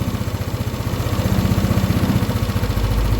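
A Yamaha NMAX scooter engine, idle freshly brought back to normal, revs up close by with a steady throbbing pulse that climbs in level and holds, with no talk.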